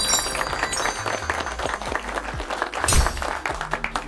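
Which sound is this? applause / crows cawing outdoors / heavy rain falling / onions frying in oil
applause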